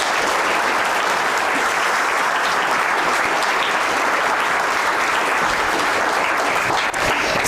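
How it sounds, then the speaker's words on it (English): An audience in a theatre gives a sustained round of applause at a Shakespeare performance competition final, even and continuous dense clapping with no gaps throughout. "so give her a lovely round of applause"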